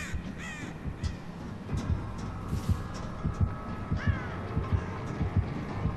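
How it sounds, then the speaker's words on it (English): Several harsh crow caws ring out over a steady, throbbing heartbeat pulse and low ambient hum in Dead by Daylight, the calls spaced irregularly and moderately distant. "Hi, Crow."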